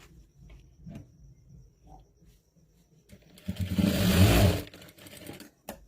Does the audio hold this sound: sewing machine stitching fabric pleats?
yes